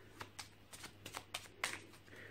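Lenormand cards are shuffled overhand, making soft, quiet riffling slaps in an irregular rhythm of about ten light bursts, close by and alone.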